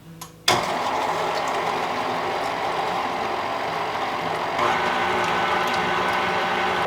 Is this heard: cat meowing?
no